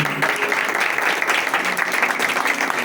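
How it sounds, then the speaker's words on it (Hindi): A church congregation claps steadily and vigorously, a dense, even wash of applause lasting a few seconds. "जोरदार तालियां"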